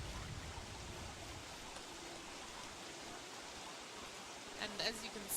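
Steady rain in the survival video game Don't Starve, a dense constant hiss of falling water running throughout at moderate level, with a few brief brighter sparkles near the end.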